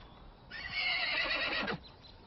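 Horses whinny loudly in a Western film scene, a bright drawn-out neigh lasting about a second, with a few soft hoof clops on hard ground underneath and no talking.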